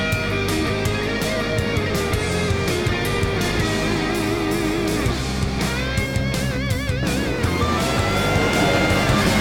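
Super truck at Bristol racing and spinning its rear tires, with a loud, steady engine roar, wavering pitch and tire noise filling the whole stretch.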